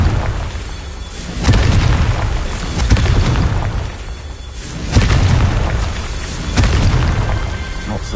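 Repeated booming blasts from the Confringo spell in Hogwarts Legacy, roughly every couple of seconds, each a deep loud burst fading into rumbling debris.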